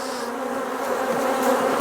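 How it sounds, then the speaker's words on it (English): Honey bees swarm and buzz inside an opened hive during an inspection, a dense, continuous hum that holds steady and swells slightly toward the end, with no voices. "let's have a look at what's happening in here and see how these bees are doing"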